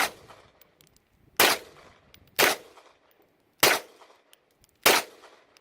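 A Springfield XD(M) 9mm pistol with a threaded barrel fires four sharp shots at an outdoor range, each a crisp crack spaced about a second apart, with faint pings from distant steel targets.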